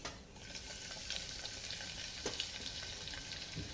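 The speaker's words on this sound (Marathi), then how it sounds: "आता हे परतून घेऊया लसूण लालसर झाल्याबरोबर" Crushed garlic and sesame seeds sautéing in hot oil for a tempering, a steady close sizzle and crackle with occasional stirring scrapes, quiet overall and without talk.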